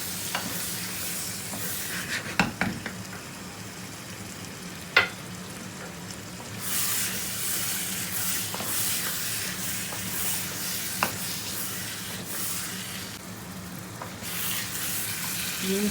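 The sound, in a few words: stirring and frying lamb mince with capsicum in a kadhai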